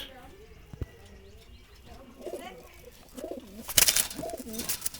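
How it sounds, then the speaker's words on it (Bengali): Wild pigeons coo in low, rolling bursts, repeated a few times, with a sudden rustling flutter near the end and faint voices in the background. "রানিং কবুতর"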